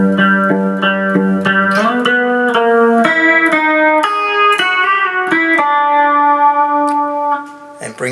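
A short electric guitar fill from The Easybeats' "Friday on My Mind", a quick run of plucked single notes with pull-offs, bright and close, ending in a brief pause and a final note.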